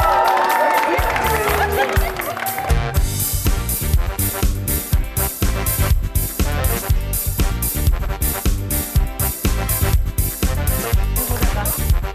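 A TV studio audience claps and cheers to welcome a guest's entrance, the applause steady and loud throughout under loud rhythmic music.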